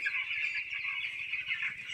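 A dense chorus of chickens on a poultry farm in Chandpur clucks and chatters continuously, many birds calling at once at moderate loudness.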